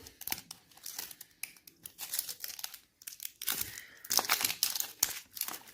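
Crinkling plastic wrap and tearing packaging while a surprise toy box is opened, several bursts of close, loud rustling and ripping with brief pauses between.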